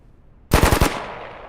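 Short burst of machine-gun fire in a military tactics video game, about four rapid, loud, close shots cracking out after a moment of quiet, then a fading echo tail.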